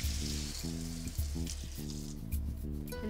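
Banana leaves held over an open flame sizzle and crackle steadily and close by, with a low rhythmic hum beneath.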